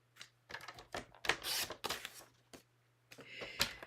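Scissors cutting a sheet of paper in half, a series of close, crisp snips and rustles in short bursts, fairly quiet, over a faint low hum.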